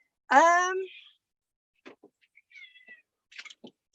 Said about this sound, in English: Cats, stop fighting, please.